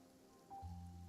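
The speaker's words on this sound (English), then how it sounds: "It's raining." Steady rain falls in the Genshin Impact game world, a soft continuous hiss that is joined midway by a low sustained tonal hum from the game's ambience, with no voices present.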